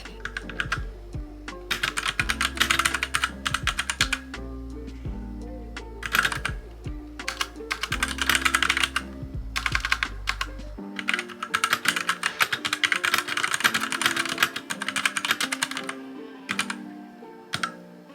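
Clicky keyboard typing during an evening writing session at home, a steady flurry of bright keystrokes in bursts with brief pauses, close and alone over a low background tone that stops partway through.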